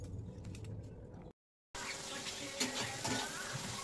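Onions fry in a pan with salt added, giving a steady close sizzle and crackle with soft stirring; the sound stops briefly, then returns a little louder with bright pops.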